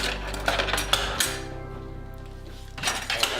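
Light metallic clinks of a spoon and measuring cup being grabbed in a home kitchen while making a sabich sandwich, a few quiet taps and rattles near the start and end around a low hum.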